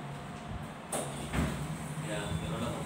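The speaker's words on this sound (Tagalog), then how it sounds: "sara na natin pinto" The door of a Melag Cliniclave 45 autoclave shuts with a short thud and latch click, heard close amid a constant machine hum, with talk around it.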